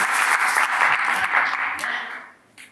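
Church congregation clapping during a French-language worship service, a dense burst of applause with voices mixed in that tapers off after about two seconds, then a last faint clap.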